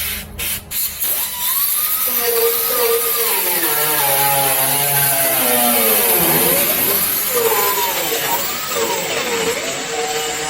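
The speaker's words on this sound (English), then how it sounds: "So we can take our grinder and we can grind the edges." An angle grinder works along the edges of sheet metal on a custom truck bed, a steady loud high whine with a shifting, wavering pitch as the disc bites, running continuously after a few brief clicks at the start.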